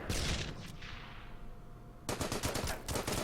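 Bunkers open fire in the wartime strategy game Order of Battle: Pacific, a loud burst of rapid gunfire followed by a lull, then a second dense volley of shots, with no talking.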